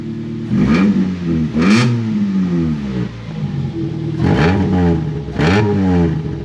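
A 1985 Toyota Corolla FXGT engine is revved repeatedly, with several loud, close blips that rise and fall in pitch over a rumbling idle, without speech.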